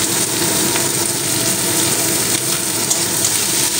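A large chopped onion sizzles loudly in hot oil in a pan, a close, steady crackling hiss that holds evenly throughout with no voices.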